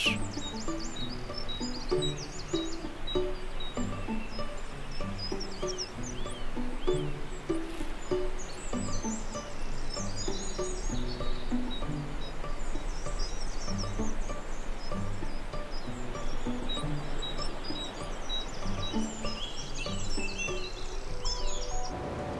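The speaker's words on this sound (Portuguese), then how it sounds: "podendo ocorrer dezenas de espécies de aves residentes como os chapins e as curiosas trepadeira azul e trepadeira comum que nidificam nestas áreas" Tits and nuthatches sing in mountain woodland near Melgaço, a continuous mix of thin chirps and twittering calls with soft rustling and insect buzz, steady and moderately loud throughout with no voices.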